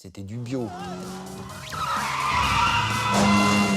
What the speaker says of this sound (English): the movie where we skid around the corner and we do hit the thing